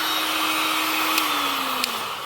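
A 1.4 kW hair dryer, powered through an inverter from a 220Ah lithium iron phosphate power bank, blows with a steady, loud whoosh close by, a thin motor whine running through it that dips slightly in pitch near the end.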